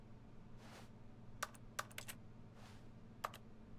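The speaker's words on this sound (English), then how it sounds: "Is there like a keyboard attached to my hand or something?" Keyboard typing from The Stanley Parable video game: a few sharp, isolated key clicks spaced irregularly over a quiet, steady background hum, with no one speaking.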